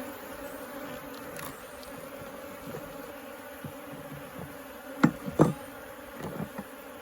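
Honey bees buzz faintly around a honey-filled hive frame outdoors, a low continuous drone with a couple of brief sharper knocks or rustles near the end.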